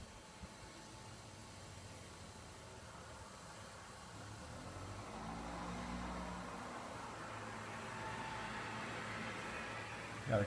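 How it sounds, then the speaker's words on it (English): A passing car drives by outdoors as a steady, low rumbling swell that builds gently and lingers near a brewing setup where a boil is underway, with no talk over it. "Got a car driving by."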